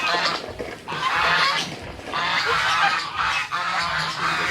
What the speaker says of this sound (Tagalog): Ayan, gansa.